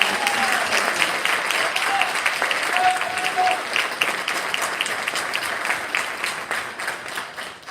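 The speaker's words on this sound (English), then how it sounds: "Let's give these students one more round of applause" Audience at a senior awards ceremony giving students a steady, full round of applause, a broad wash of clapping that holds throughout with a few faint voices mixed in.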